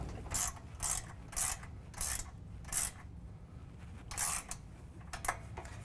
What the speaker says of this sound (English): you're going to use the same tools to tighten down the pinch weld bolts